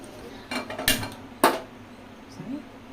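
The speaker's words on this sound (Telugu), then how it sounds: "చారు గిన్నెని ఇప్పుడు పెట్టేయాలి" A metal cooking pot of charu, a Telugu tamarind soup, is set onto a lit stove. It gives a few sharp, close metallic clanks and scrapes in quick succession, then fades to quiet room tone.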